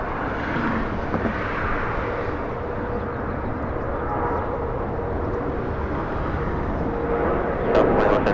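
Southwest Airlines jet on takeoff from runway 24 left at Los Angeles International Airport, a broad steady engine roar heard from a distance throughout, with faint clicks and tones near the end.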